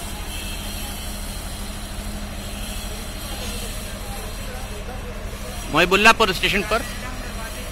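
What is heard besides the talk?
locomotive engines at a railway station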